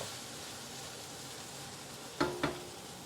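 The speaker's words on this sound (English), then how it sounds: "Browning or stir frying it would actually release the flavor of the meat better" Quiet, steady sizzling of meat browning in a pan, with two brief clinks of a utensil near the end.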